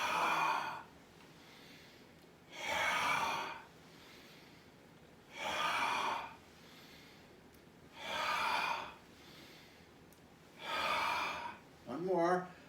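Voiced qigong heart healing sound, a long breathy exhalation repeated five times at steady intervals of about two and a half seconds, fairly loud and close, with quiet pauses between breaths.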